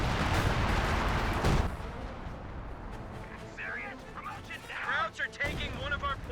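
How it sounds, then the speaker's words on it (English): Heavy artillery barrage in the Company of Heroes 2 strategy game, a loud cluster of booming blasts in the first second and a half, followed by fainter battlefield rumble under scattered unit voices. "I think major artillery's been summoned there."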